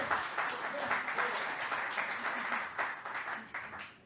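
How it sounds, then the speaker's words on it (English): Audience applause at a Rotary club meeting in Seattle, a steady, moderately loud wash of clapping from a room of people that carries on for about four seconds, with faint voices mixed in, before it thins out at the end. "The applause gets lamer and lamer and lamer."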